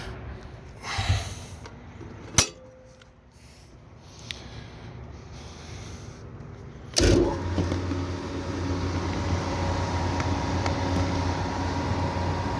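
After a few faint knocks and a sharp clunk, the blower motor of a York package air-conditioning unit kicks on and runs with a steady, moderately loud hum and whoosh.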